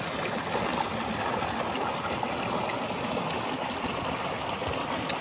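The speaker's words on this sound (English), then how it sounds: "this is the top of Cooper Canyon Falls." Water pours and rushes at the top of Cooper Canyon Falls, a steady, broadband wash of flowing water that stays even and continuous from start to finish with no talking.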